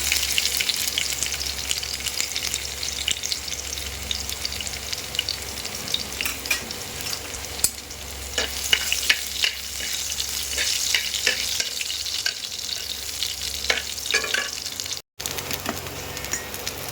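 Dried red chilli, nigella seeds and garlic sizzling in hot oil for jute leaf dal, a continuous bright crackle with intermittent stirring pops and spatters, close and even throughout.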